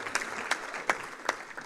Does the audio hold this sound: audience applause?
yes